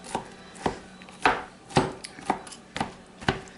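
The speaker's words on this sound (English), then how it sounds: "So I'm just rough chopping" Rough, uneven chopping of blackened chicken on a cutting board: about seven sharp knife strikes at a loose, irregular pace, close and clear with no talking.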